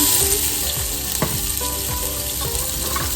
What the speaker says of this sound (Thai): พริกกับกระเทียมนะคะ คั่วให้ทุกอย่างจนหอมนะคะ